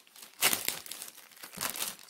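Close, crisp crinkling of thin plastic in a few short handling bursts, fairly quiet with pauses between rustles.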